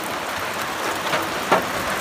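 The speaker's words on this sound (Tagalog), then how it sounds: "Yan po, patuloy po ang ulan." Steady rain falls outdoors in Batangas, a continuous close hiss of drops on surfaces with a couple of sharper individual drop hits.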